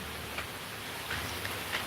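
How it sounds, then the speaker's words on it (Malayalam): Soft, steady rain hiss with a few faint drops pattering nearby, no voices. "മഴയാ ഇവിടെ ഇവിടെ എല്ലാം ഫുള്ള് നനഞ്ഞതാ"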